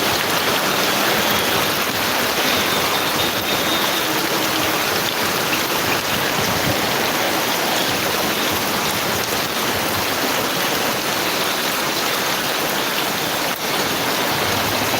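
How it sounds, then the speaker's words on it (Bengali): Heavy rain pours steadily in Gazipur, a loud, dense and unbroken hiss of drops striking surfaces for the whole stretch. "আমাদের গাজীপুরে প্রচুর বৃষ্টি হচ্ছে"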